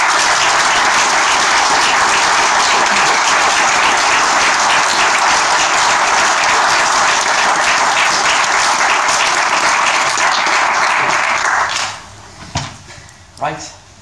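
A hall audience applauding at the end of a talk, loud sustained clapping for about twelve seconds before tapering off into a few scattered claps and handling noises.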